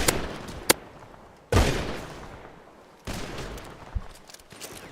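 Bursts of gunfire in a GTA roleplay game: a sharp single shot, then two heavier volleys that trail off into echoing decay, fairly close and loud with no talk over them.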